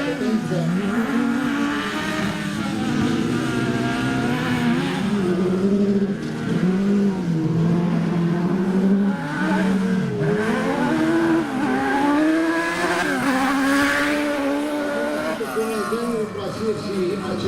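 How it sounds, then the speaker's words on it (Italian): Single-seater race cars at an Italian UISP circuit event rev loudly and continuously, engines rising and falling as the rear wheels spin and struggle for grip, with a commentator talking over the steady roar throughout. "anche ascoltando i giri del motore che le vetture vanno via sempre in pattinamento"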